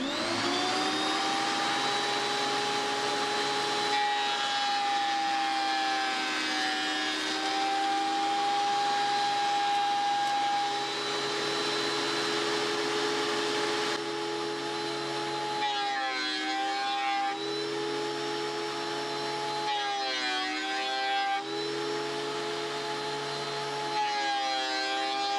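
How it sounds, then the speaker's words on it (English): WEN 6552T 13-inch benchtop thickness planer running and planing hardwood boards, a loud continuous motor whine with shifting tones as boards feed through, several changes in pitch across the run, no talking. "it does look like this planer is up to the task of planing down these hardwoods"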